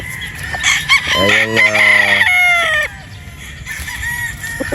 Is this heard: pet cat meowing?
no